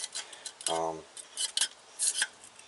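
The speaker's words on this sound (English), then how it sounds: "there's some loose paint on it. I'm just scraping that off right now, and some extra gunky gunk." Loose paint being scraped off an International DT360 timing cover plate, several short rasping strokes in quick bursts with a brief metallic ring, close and fairly faint.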